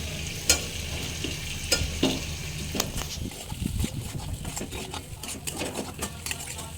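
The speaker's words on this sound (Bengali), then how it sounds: "আমি আলুগুলো এখন মশলার সঙ্গে আর একটু ভালো করে কষবো" Potatoes frying in oil with spices while being stirred in a pan, a soft continuous sizzle broken by scraping strokes and a few sharp clinks from the spoon, close and fairly quiet.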